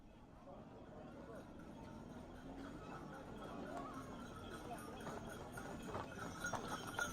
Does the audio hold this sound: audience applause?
no